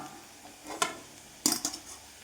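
Fried okra is scooped out of hot coconut oil, a faint sizzle beneath two distinct scraping clinks of a utensil against the pan, close and quiet.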